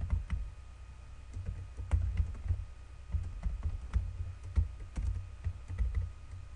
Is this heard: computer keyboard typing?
yes